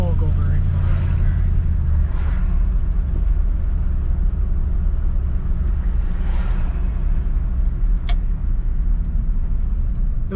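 A 1959 Chevrolet Bel Air sedan drives along, its engine a steady, loud low rumble heard from inside the car while people talk.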